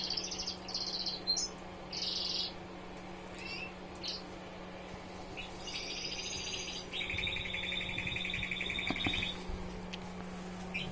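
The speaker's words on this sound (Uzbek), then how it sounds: "Endi sayrayapti, bu ham yosh bolalar shu 6 oylik bo'ldi-yu," Six-month-old young pet songbirds sing in bursts of bright, high chirps and trills, close by and fairly clear over a steady low electrical hum.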